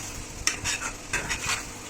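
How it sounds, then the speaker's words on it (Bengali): Small prawns are stirred and fried in a pan, with a few quick spatula scrapes over a faint sizzle across a short stretch. "এটা দিয়ে ভালোভাবে নেড়ে একটু মাছটাকে ভাজা ভাজা করে নেব"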